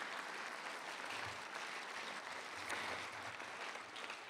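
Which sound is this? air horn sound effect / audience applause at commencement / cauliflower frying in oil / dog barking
audience applause at commencement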